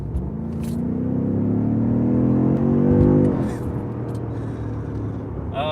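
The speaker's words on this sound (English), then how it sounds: "That is some nice acceleration there." A 2021 BMW M5 Competition in Sport Plus mode accelerates hard, its engine note climbing steadily through the revs from inside the cabin before a gear change drops the pitch, then settling into a lower drone.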